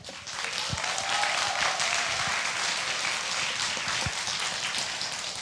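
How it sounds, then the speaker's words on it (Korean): Broad applause from an audience at an Ignite-style corporate volunteering presentation, a continuous wash of many hands clapping at moderate loudness throughout. "큰 박수 한번 주십시오"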